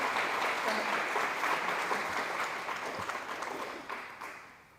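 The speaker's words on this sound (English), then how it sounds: "we need to give another round of applause for Kyrie" An audience at a scholarship and awards ceremony gives a keynote speaker a round of applause, dense steady clapping heard from a moderate distance that slowly fades toward the end.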